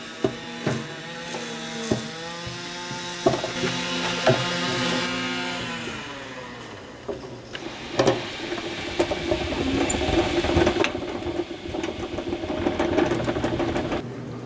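Hand-cranked honey extractor spinning freshly uncapped honey frames during a beehive harvest, a steady mechanical whirring that rises in pace with a few knocks and rattles throughout, with no talking.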